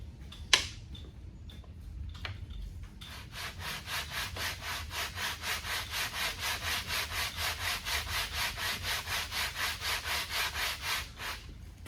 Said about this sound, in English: now it's time to start sanding again